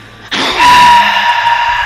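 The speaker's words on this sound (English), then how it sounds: "It sounds like he was screaming for something." A man lets out a sudden loud, sustained scream in the visual novel game Doki Doki Literature Club, starting sharply and holding strained and raw for over a second before trailing off.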